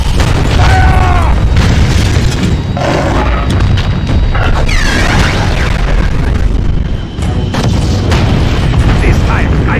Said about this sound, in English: Charge the cannon! Engage with the crystal cannon! Fire!